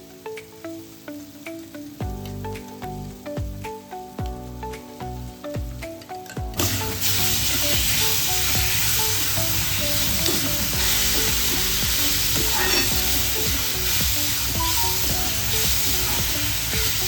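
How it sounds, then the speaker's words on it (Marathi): Coarsely ground green chilies hit hot oil in a kadhai for mirchi thecha, bursting into a loud, sustained sizzle after a few seconds of softer clinking and quieter cooking sounds. "तेल गरम झालंय. आपण त्यामध्ये मिक्सरमधून काढलेल्या मिरच्या टाकून घेऊया."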